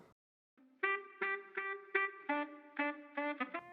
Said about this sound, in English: Next we have the saxophone that you can hear here.